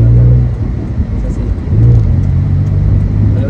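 A car engine and exhaust roar loudly and close while driving, with a low drone and a brief revving swell, as someone speaks over it.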